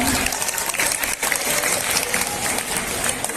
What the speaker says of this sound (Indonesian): Kita berikan aplaus, tepuk tangan